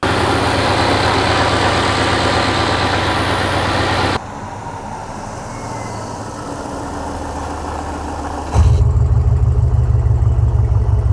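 A modified 392 Hemi V8 engine in a twin-charged Dodge Magnum idles with a deep, steady rumble, going to a softer background hum midway as the exhaust cutouts are closed, then returns loud and throbbing at the end.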